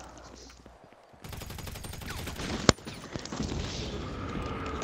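Rapid gunfire bursts from a shootout in the video game GTA 5, including one sharp loud shot, over a busy game soundscape with faint voices nearby.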